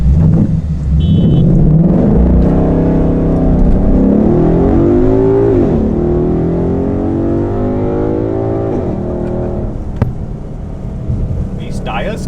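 A muscle car accelerates hard with its wheels spinning, a loud, sustained engine roar rising in pitch over several seconds, then dropping, with people talking over it.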